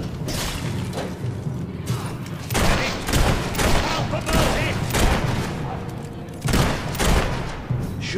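Gunfire and explosive blasts in the Fable 3 video game: repeated loud bursts of shots and booms sound at irregular intervals over a rumbling game background.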